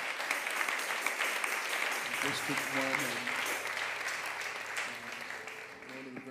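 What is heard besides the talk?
congregation applause for pastors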